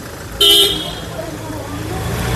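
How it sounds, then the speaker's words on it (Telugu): A 2015 XUV500 W8 car driving off, with one short, loud horn toot followed by a low engine rumble as it pulls away nearby. "కార్ అయితే బయలుదేరుతుందండి"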